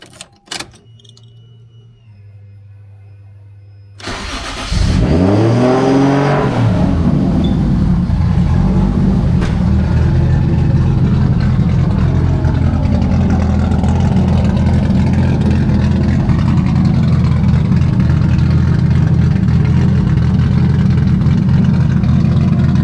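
After a few quiet seconds, a modified Pulsar motorcycle engine cranks and fires up, then settles into a loud, steady, rumbling idle that continues to the end.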